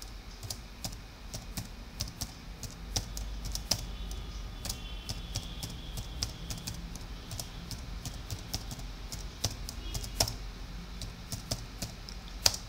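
Rapid, light clicking of a computer keyboard as C program code is typed, steady irregular keystrokes with occasional louder taps over faint room noise, with no voices.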